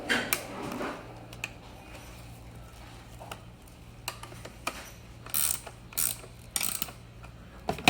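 Ratchet clicks and mechanical tightening of fasteners on an add-on seat assembly for an EVOLV Tour 2.0 golf cart, irregular close ticking bursts over a low steady hum, heavier toward the end, no voices.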